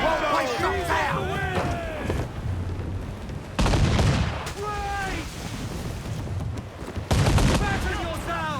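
Ship cannons fire broadsides in the video game Assassin's Creed IV Black Flag, with two loud booming volleys over wind, creaking and shouted crew voices.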